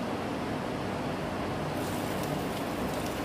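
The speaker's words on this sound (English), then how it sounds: "I'm sure you guys heard that heavy sound though. I just purposely allowed that for a little. That is the rain though." Heavy rain in a very rainy region falls in a steady, dense roar, a constant broadband wash with no breaks and no voices.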